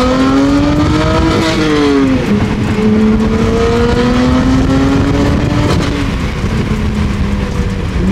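A BMW F80 M3 engine revs loud and close, its tone climbing and sagging in a steady, throaty drone that runs for the full clip, with a brief spoken word.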